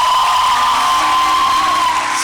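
A church congregation cheers and whoops loudly for a birthday, with a bright sustained crowd roar, a shrill whistle-like tone running through it and clapping mixed in, continuous throughout.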